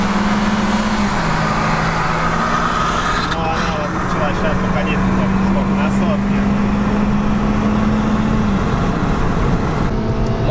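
A Hyundai Solaris 1.6 engine is revved hard during a drag race against a VAZ 2113 and Granta Sport, with a steady, high-pitched drone rising through the gears. Loud road and wind noise accompany it, and occupants talk over it.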